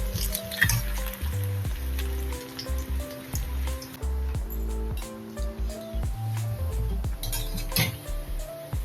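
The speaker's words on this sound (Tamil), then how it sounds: "சிம்ல வச்சு பொரிக்கணும்." Oil sizzles steadily as food fries on low heat toward golden brown, beneath frequent clinks and clatter of metal utensils against a pan, with no one speaking.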